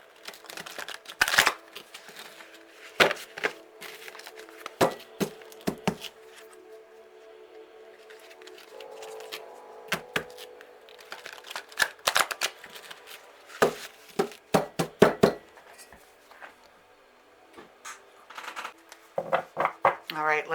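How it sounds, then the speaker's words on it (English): A stiff deck of tarot cards is shuffled in bursts of sharp riffling clicks and slaps, with quieter handling between them and a voice speaking in places. "We're going to try to shuffle the deck here."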